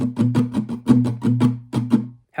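A guitar strums a steady, rhythmic pattern, with brisk strokes and a few accented hits, played close and alone before stopping abruptly.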